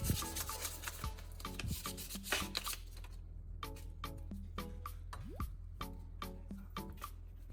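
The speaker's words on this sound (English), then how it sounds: "Just sand evenly so the hard rust layer starts coming off." Close, repeated rasping strokes of sandpaper scraping rust off metal, in uneven back-and-forth bursts.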